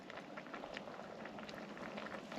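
Water boils hard over a wood-burning stove, with a dense, steady bubbling and popping that stays moderately close and continuous, with no voices.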